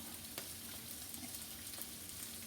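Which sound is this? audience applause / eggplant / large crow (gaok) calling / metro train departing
eggplant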